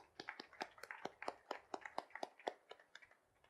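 A small audience at a talk claps for a few seconds, a thin, quiet patter of individual hand claps fading toward the end.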